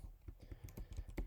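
Python code being typed on a computer keyboard: a steady run of quick, close key clicks with no one talking.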